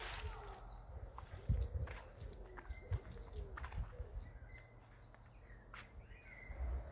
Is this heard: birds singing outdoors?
yes